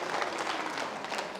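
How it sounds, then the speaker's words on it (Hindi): An audience gathered for a talk on Buddhist practice applauds a speaker with a lively, continuous burst of clapping, loud and dense throughout with no voices on top. "एक बार जोरदार तालियां उनके लिए।"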